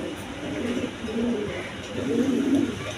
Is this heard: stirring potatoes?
no